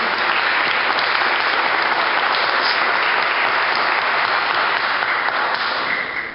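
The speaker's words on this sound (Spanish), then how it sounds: "Denle un aplauso fuerte al Señor." A Spanish-speaking church congregation at Iglesia Principe de Paz in Morristown claps loudly and continuously, a dense, even wash of applause filling the room without a break.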